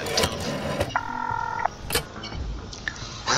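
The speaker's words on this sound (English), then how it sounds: "That's a loud dial tone." A telephone dial tone hums in short steady bursts inside a detective video game, set among clicks, clunks and other game sound effects.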